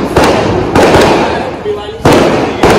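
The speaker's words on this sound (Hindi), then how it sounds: "इंडिया फाइनल पहुंच गई तो पटाखे फोड़ रहे हैं सब जगह" Firecrackers bursting outdoors in celebration of India reaching the cricket final, several loud sharp bangs spaced irregularly, with a crackling wash between them and nearby voices.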